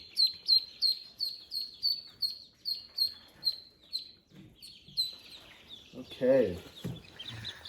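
Newly hatched Cayuga and Magpie ducklings peep in a quick series of high, thin calls, fairly close, with a lower rustle and a brief deeper call near the end.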